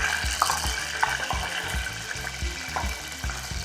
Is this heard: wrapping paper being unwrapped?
no